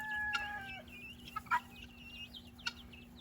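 A mother hen with her chicks in a garden run: soft clucks and a few sharp cheeps come in short bursts, close and fairly quiet, with no talking.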